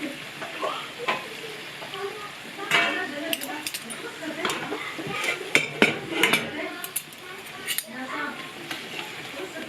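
Bugnes dough fritters fry in hot oil with a steady sizzle while utensils stir and clink against the pan, close by, with a person talking intermittently over the cooking.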